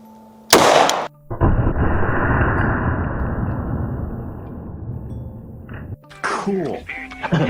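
Two 9mm pistol shots into a gel block with a 5-inch barrel, comparing Liberty Civil Defense and Speer Gold Dot rounds: a sharp, loud bang followed by a long reverberating rumble, then another blast, with voices talking between shots.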